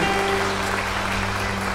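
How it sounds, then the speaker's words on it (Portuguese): A church congregation applauds in praise during a worship service, a brief, fairly faint wash of steady clapping with a low hum underneath. "aplauda o Senhor mais uma vez"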